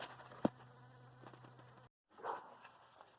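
A honeybee trapped inside a greenhouse gives a faint, steady buzzing with one sharp tap, then a brief silence before a softer buzz returns.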